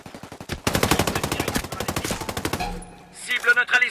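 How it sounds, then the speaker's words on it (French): Rapid automatic gunfire in the video game Ghost Recon, a fast loud burst of evenly spaced shots lasting about two seconds, then a pause and a few scattered heavier shots with faint game voice. "J'entends des coups de feu."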